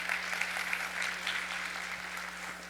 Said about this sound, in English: Hey, clap that up, you guys.